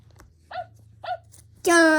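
A children's toy animal-sound piano plays a dog sound made of two short, sharp barks close together, followed by a louder sustained tone. A low electronic buzz runs underneath.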